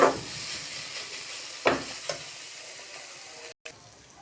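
Boiled radish greens fry in a pan with onion, garlic and dried chili, giving a steady close hiss punctuated by a few sharp stirring scrapes.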